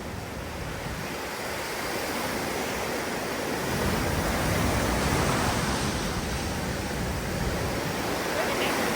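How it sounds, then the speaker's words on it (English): Ocean surf rolls in near Galle, Sri Lanka, a loud, continuous roar of breaking waves mixed with wind buffeting the microphone, swelling slightly louder partway through. "these waves are beautiful"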